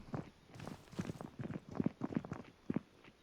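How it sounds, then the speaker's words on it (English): Footsteps of a player character in the survival shooter game Deadside, a steady run of thudding steps at close range, about nine impacts over a few seconds, with no voices. "they can hear my footsteps when I'm standing up"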